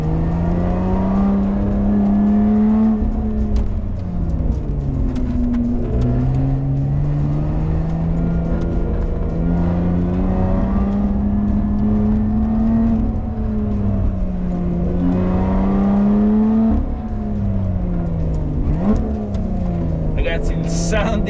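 A Lotus Evora 400 sports car engine revs loudly and continuously, its pitch rising and falling through manual gear changes as the car accelerates hard.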